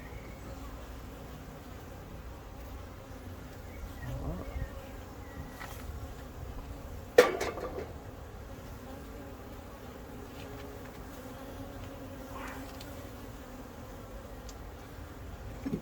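A faint, steady buzz of honeybees in an open hive drones throughout, with a brief sharp knock partway through.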